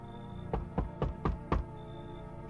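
Banging on a door in a video game: five evenly spaced heavy knocks, close and solid, over a quiet steady background hum with no talking.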